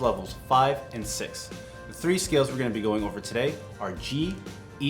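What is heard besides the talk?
No everyday noises stand out.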